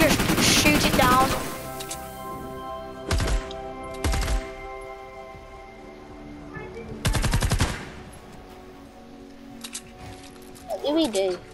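Video game gunfire during a mission to retrieve data, heard as several short bursts of rapid shots separated by quieter gaps, with game music and a voice talking over parts of it.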